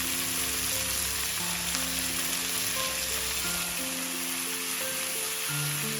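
Tomatoes sauté in a pan for South Indian tomato chutney, giving a steady, close hiss of frying that runs unbroken under soft tonal background music.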